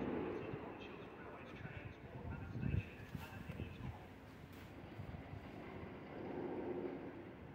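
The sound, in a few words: train at Birmingham Moor Street station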